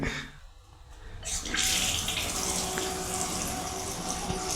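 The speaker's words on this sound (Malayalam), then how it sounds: "പൈപ്പിൽ വെള്ളം വരുന്നുണ്ട്." Water gushes from a leaking pipe after the tap is switched on, a loud, steady, close rush that starts abruptly and keeps flowing without a break.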